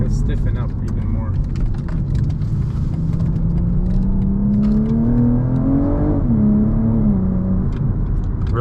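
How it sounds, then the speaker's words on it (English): A 2024 BMW M2 or M240i accelerates hard through a corner, its engine note rising steadily in pitch as a continuous loud drone with tyre and road rumble beneath, heard from inside the cabin. "I'm gonna take this corner at a little bit of speed."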